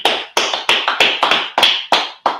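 Group clapping in sharp, close, fairly loud bursts of roughly a dozen claps, slightly uneven in rhythm, with no talk over it.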